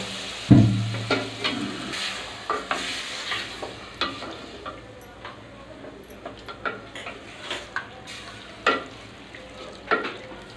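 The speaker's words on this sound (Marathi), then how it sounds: "आणि आता आपण चिकन थोडंसं त्याच्यामध्ये परतूया" Chicken sautéing in spiced oil in a pan gives a low steady sizzle, broken by repeated close scrapes and knocks of a spatula stirring against the metal at an uneven rhythm.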